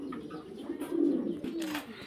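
A pair of black Lahori pigeons in a loft gives a soft, low, burbling coo, close by and fairly quiet, with a short second call near the end and faint background noise.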